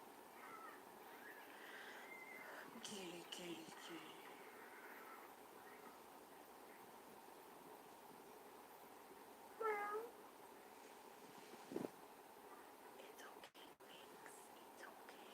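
A house cat gives one short meow, faint over steady background hiss, with a soft click or knock a moment later.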